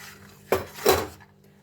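Peanuts poured into a pan while making sesame peanut gajak: two quick clattering bursts of nuts hitting the metal, close and fairly loud, with no talking.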